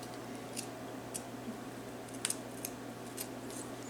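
Scissors cutting a paper letter for a Dollar Tree fall banner, a few quiet crisp snips spaced across a hushed room.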